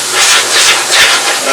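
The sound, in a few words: spray cleaner blasting dust off vintage Hallicrafters SX-100 receiver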